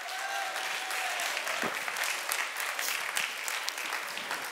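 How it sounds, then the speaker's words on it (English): Sustained applause from a church congregation, a dense wash of clapping that holds steady and loud throughout, with no break. "Give the Lord a clap offering."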